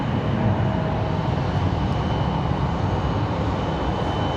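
A CRJ regional jet departs Raleigh-Durham International Airport, its engines producing a loud, steady broadband roar with a faint high whine, continuous and fairly close throughout.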